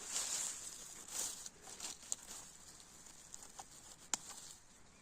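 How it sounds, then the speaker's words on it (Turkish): Light rain pattering steadily in a forest, with faint scattered drips and a few sharper taps standing out close by, no one talking. "dışarıda çok güzel yağmur yağıyor."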